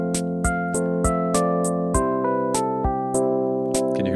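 A programmed drum groove in video game music carries a quarter-note hi-hat pulse with steady evenly spaced ticks, while sustained synth chords hold underneath and shift partway through.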